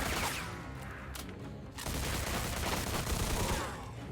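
Thompson submachine gun fire in the video game Mafia II comes as dense, sustained automatic bursts with a short break, loud and continuous, with no talk.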